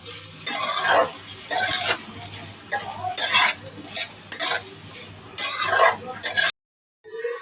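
A spoon stirs bitter gourd (karela) and potato dry sabzi with spices in a pan, giving repeated scraping, stirring strokes in bursts with light sizzling underneath and a short pause near the end.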